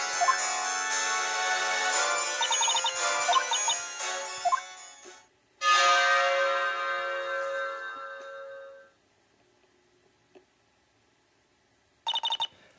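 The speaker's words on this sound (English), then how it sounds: "I just really want to ring that bell." In the Professor Layton vs Phoenix Wright game, a bell rings with a bright, sustained metallic chime that fades out, is struck again for a second long ring, and gives a brief final burst after a pause.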